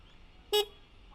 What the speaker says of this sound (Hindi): तो ये हॉर्न का साउंड है